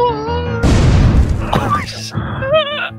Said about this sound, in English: Oh god, my grenade.